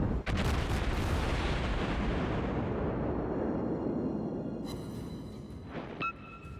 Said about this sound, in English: I'd rather just shoot you with the guns